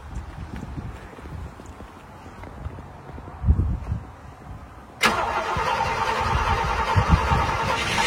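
A Mercedes W116 450 SEL 6.9 with its 6.9-litre V8 cranks briefly, then fires abruptly into a loud, rumbling idle that holds steady, with faint shuffling before the start.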